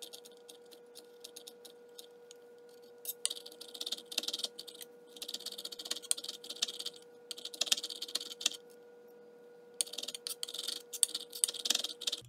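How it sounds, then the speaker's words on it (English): A knife minces garlic cloves on a cutting board, with quick irregular bursts of light tapping chops separated by short pauses, close and quiet. "Now I'm going to mince up 5 cloves of garlic."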